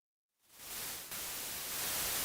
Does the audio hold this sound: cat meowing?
no